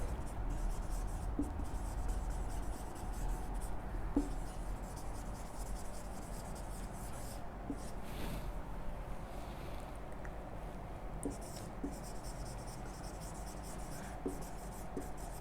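Pen writing a statement on paper for a salary allowance tax calculation, a soft continuous rubbing scratch with occasional faint taps, low and steady, alone without speech.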